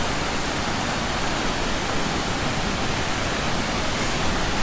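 A waterfall near Juneau, Alaska roars as a dense, steady wash of rushing water, loud and close, constant throughout with no voices.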